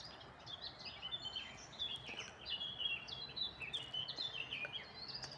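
Several blackbirds sing at once in the morning, bright warbling phrases overlapping at a distance over a quiet outdoor background.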